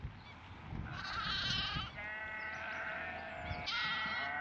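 Several sheep bleat in overlapping calls, fairly close, over a soft outdoor background on the Isle of Lewis.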